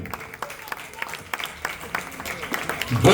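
Audience applause for children at a live event, dense irregular clapping throughout, fairly loud and building toward the end, with some voices mixed in.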